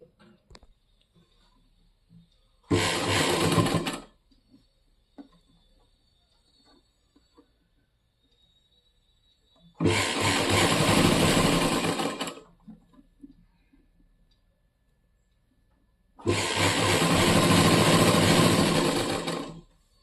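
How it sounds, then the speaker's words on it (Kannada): A sewing machine stitches the bottom hem of a trouser leg in three separate runs of steady, rapid mechanical chatter, each a few seconds long, with quiet pauses between, close and clear. "ಈಗ ಬಾಟಮಲ್ಲಿ ಸ್ಟಿಚಿಂಗ್ ಮಾಡೋದು"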